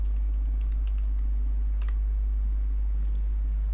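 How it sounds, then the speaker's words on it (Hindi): Typing a search into Google: faint keyboard taps in a few quick bursts over a loud, steady low electrical hum. "गूगल में टाइप करना है"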